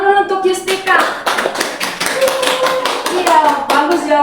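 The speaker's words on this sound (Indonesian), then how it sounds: "Beri tepuk tangan dulu untuk Yustika." A classroom of students claps for a classmate's answer during a secondary-school geography lesson, a few seconds of brisk, uneven hand claps with a teacher's voice talking over them.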